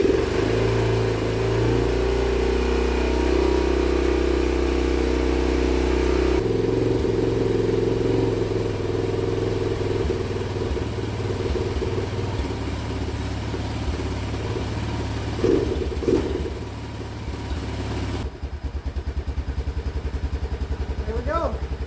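The engine of a 2002 Honda Rincon 650 ATV with a carburetor starts up and runs at a steady, rough idle nearby, its level wavering slightly, with scattered handling noises throughout.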